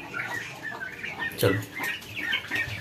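Turkey hens and chickens cluck in a farmyard poultry house, a busy mix of short clucks and calls at close range, with someone speaking briefly over them.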